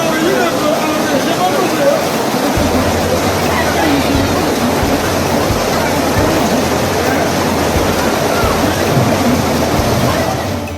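Torrential river in flash flood after mountain cloudbursts and landslides, with dam-breaking flow: a steady, loud wall of rushing water roars without pause through the whole stretch, with a deep low rumble underneath.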